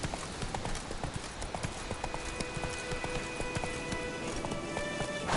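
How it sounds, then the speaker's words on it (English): Geralt's horse Roach gallops in The Witcher 3, a steady, fast clip-clop of hooves filling the scene over a dense game soundscape, with a brief whinny and faint music tones running underneath. "Run, Roach."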